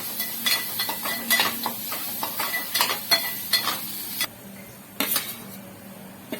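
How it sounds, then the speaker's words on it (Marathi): Ginger garlic paste fries in butter with onions in a pan, a soft sizzle under repeated scraping and clinking of a spoon against the pan, close and intermittent. "आलं लसूण पेस्ट टाकूया. ती पण तेलात चांगली फ्राय करायची, सॉरी बटरमध्ये."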